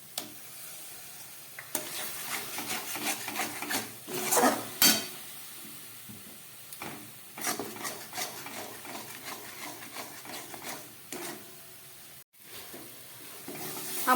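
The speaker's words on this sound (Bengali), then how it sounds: "আমার ঘরোয়া সমস্ত মশলা দিয়ে মশলাটা কষানো হয়ে গেছে।" Spices and tomato paste for chana masala sizzle and hiss in a pan while being stirred, with repeated scraping strokes and light utensil clinks coming in bursts, close and fairly loud, with no voices.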